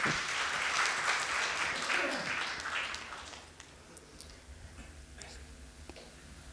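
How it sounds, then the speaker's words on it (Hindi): Listeners at a spiritual discourse clap together loudly for a few seconds, the applause then tapering off into a quieter room with soft voices and scattered faint claps. "ताली बजाओ इस बात के लिए।"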